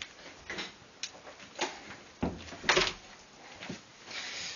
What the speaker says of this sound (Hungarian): Jó, becsuktam az ajtót